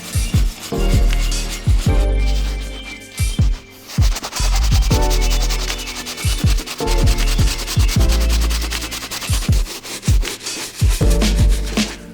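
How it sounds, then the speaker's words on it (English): Medium all-purpose brush scrubbing the uppers of Air Jordan 8 sneakers during a restoration, loud close rhythmic strokes in repeated bursts with brief pauses between them. "Right now we're gonna focus on the uppers using our all-purpose medium brush."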